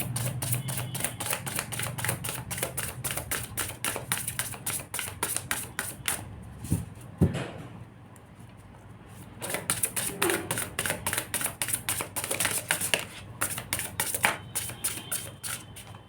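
Tarot cards are shuffled with rapid, dense riffling bursts, close and fairly quiet, broken by a brief pause before the shuffling resumes.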